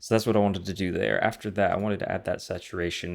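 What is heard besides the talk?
None of the usual background noises is heard.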